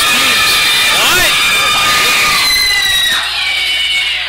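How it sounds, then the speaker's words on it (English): A wrestling crowd at a tag team title match, loud and dense, with shouting, cheering and shrill whistles blending into a continuous roar throughout, and voices calling out within it. "The crowd heated up."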